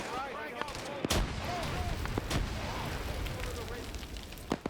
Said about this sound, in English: Use the new frag grenade device!